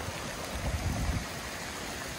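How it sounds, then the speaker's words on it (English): Stream water running beside and straight down a hiking trail in a Georgia state park in late winter, a steady close rushing wash with slight swells, no voices. "the water's coming right down the trail"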